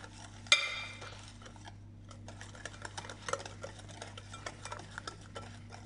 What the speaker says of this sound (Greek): Ρίχνω μέσα το corn flour και το υπόλοιπο γάλα και ανακατεύω.